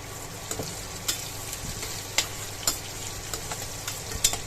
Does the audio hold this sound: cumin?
yes